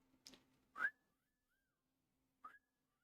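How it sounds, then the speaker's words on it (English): A person with a missing front tooth whistles: two short, breathy, sliding whistles about a second and a half apart, the first with a rushing airy onset, then near silence. "my whistle's terrible because I don't have my front tooth anymore"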